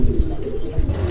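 A large Jacobin pigeon cooing, a short low throaty coo that swells twice, close and fairly loud with no talk.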